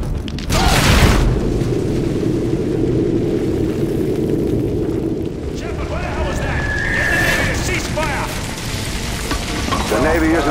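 Heavy naval artillery rounds explode in Call of Duty Modern Warfare 2, with a loud booming blast at the start followed by rumbling debris and ongoing battle noise, and voices shouting underneath.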